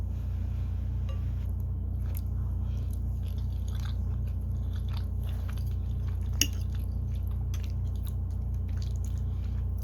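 Close, wet chewing and squishing of tender slow cooker oxtail, with soft bites and smacks over a steady low background hum, and no one talking.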